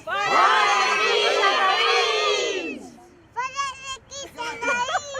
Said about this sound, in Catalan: Un crit ben fort.